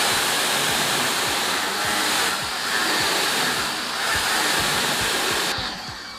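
Water from a hose pours over a black-painted car panel coated with a ceramic acrylic wax, a steady, loud, broadband rush that swells and dips slightly and holds throughout with no voices.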